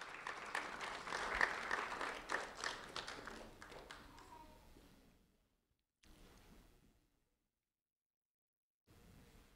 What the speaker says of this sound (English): a round of applause for Maria Soto Angel